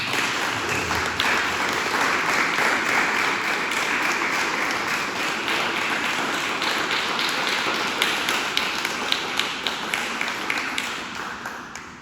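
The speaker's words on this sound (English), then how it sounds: "can we give this class a huge round of applause for all of their accomplishments?" Sustained applause from a large crowd at a school fifth-grade celebration assembly, steady and loud for the whole stretch, with dense overlapping claps and no voices.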